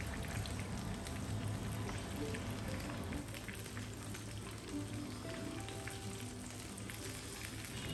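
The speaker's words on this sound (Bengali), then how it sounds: "এজন্য শেষের 1 মিনিট চুলা আঁচটা বাড়িয়ে ভাজবো" Loitta fish fry in hot oil over raised heat, giving a dense, even sizzle and crackle that holds steady throughout, with no voices.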